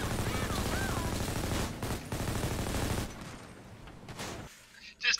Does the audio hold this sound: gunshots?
yes